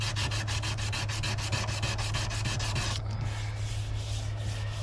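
Fine-grit sandpaper, around 400 to 600, buffing a surfboard ding repair: rapid rhythmic rubbing strokes in a steady back-and-forth pattern, then a smoother continuous scuffing after a brief pause, close and fairly quiet.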